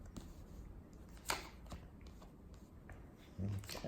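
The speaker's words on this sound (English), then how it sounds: "One more shuffle." Tarot deck being shuffled by hand at a reading table, a soft papery riffle and slide of cards, close and quiet with a few light taps.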